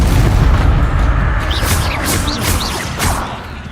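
Confringo blasting spells explode in the Hogwarts Legacy video game as a loud, rumbling, continuous blast with a crackling, booming tail and a few sharper pops mixed in.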